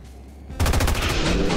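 Rapid bursts of gunfire in the video game XCOM 2, starting abruptly after a quiet half second and continuing as loud, dense, repeated shots with no talk.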